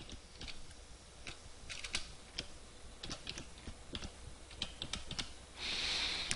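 Someone types a password on a computer keyboard, with light, close clicks in irregular bursts and a brief hiss of background noise near the end.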